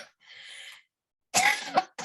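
Two short, close coughs follow a soft breathy throat sound, with silence between them in an otherwise quiet room.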